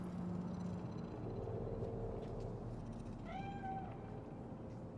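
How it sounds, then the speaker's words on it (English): A cat in Night City in the game Cyberpunk 2077 lets out a short meow over a steady hum of city ambience, fairly faint and distant. "Fine-looking feline."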